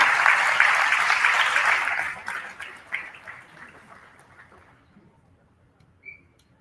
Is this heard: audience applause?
yes